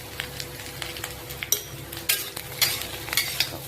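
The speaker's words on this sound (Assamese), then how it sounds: "ৰঙাকৈ ভাজি দিলোঁ" Spices including turmeric sizzle quietly in hot oil while a spoon scrapes and stirs them around the pan in irregular strokes.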